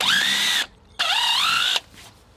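A power drill with a larger bit cuts into wood to countersink bolts while framing walls. Two close, loud whining bursts are separated by a short gap, the second climbing in pitch as it spins up.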